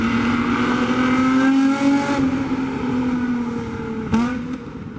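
A 2003 Nissan 350Z sports car engine revs steadily with a strong sustained tone, dipping and rising again near the end in another quick rev, loud and close with no talk.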